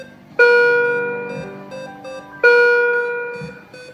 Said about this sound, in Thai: สัญญาณเตือนบนจอมอนิเตอร์ร้องเสียงดัง